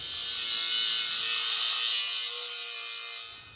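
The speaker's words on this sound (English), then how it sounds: "We'll just slice the old clamp" A cutoff wheel slices through an old factory exhaust clamp on a 2019+ Silverado, a steady high-pitched grinding whine held close and loud for a few seconds before tapering off, with no talking.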